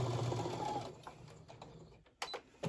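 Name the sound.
sewing machine stitching a quarter inch quilt seam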